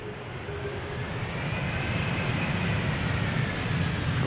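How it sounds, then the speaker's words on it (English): A 22-year-old United Airlines Boeing 777-200 arriving from San Francisco roars steadily as it lands at Schiphol's Polderbaan runway, a loud, broad jet rumble that swells slightly and holds, with no voices. "777-200, arriving from San Francisco."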